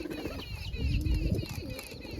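A family of pigeons settled in a farm field coo in low, rolling bursts close by, with a faint voice in the background.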